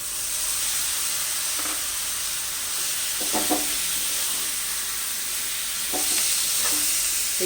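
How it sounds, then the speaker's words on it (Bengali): Marinated chicken with soy sauce, salt and lemon frying with spices in a pan, a continuous close hissing sizzle with a few light spoon scrapes and stirring taps. "দু মিনিট মশলাগুলো ভেজে এবার যে চিকেনটা আমি ম্যারিনেট করে রেখেছিলাম সয়া সয়া সস নুন আর লেবু চিকেনটা এবার এর মধ্যে আমি দিয়ে দিচ্ছি"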